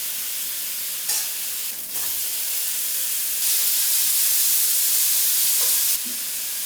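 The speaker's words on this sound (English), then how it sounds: "And then we're going to go straight in with the bacon." Bacon fries in a pan with a loud, continuous sizzle and hiss that swells midway and settles again, with a few scraping stirs and no talking.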